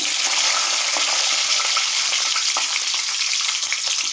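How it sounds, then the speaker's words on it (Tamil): Fenugreek seeds and green chillies fry in hot oil with a loud, close, continuous sizzle and scattered popping crackles, no voices over it. "எண்ணெய் சூடாயிட்டு வெந்தயம் சேர்த்துக்கிறேன் வெந்தயம் நல்லா பொரிஞ்சிருச்சு அது கூட வந்து பச்சை மிளகாய்"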